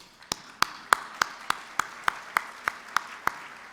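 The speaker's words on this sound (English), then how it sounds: "Why don't you give yourself a round of applause?" Slow, evenly spaced hand claps, about a dozen sharp distinct strikes at a steady rhythm, close and alone at a luncheon gathering.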